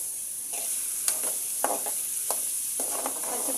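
Onions fry in a pan with a continuous hiss of sizzling oil, broken by several sharp scraping stirs of a spatula, close and alone without talk.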